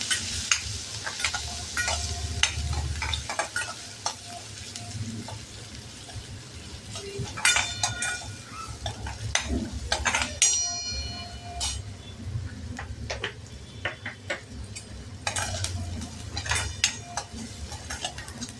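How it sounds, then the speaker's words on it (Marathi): Chopped onion with crushed ginger and garlic is sautéed in a pan, with a soft sizzle under repeated close scraping and stirring knocks of a spoon against the metal. "कांदा परतून घेऊ आपण छान."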